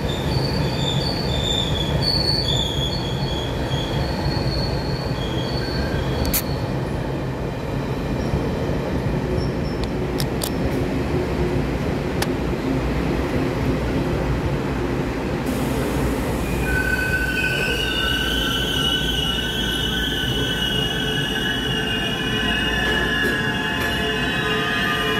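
A ten-car silver-green EMU900 electric multiple unit express train passes on a Taiwanese line, a loud steady rumble of wheels on rail with shrill, sustained wheel squeals rising and falling throughout, heard close up.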